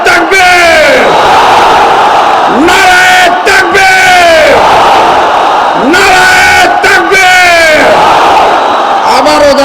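Large rally crowd chants a political slogan in loud, rhythmic bursts of massed voices, repeated call after call, with roaring yells swelling between the chants.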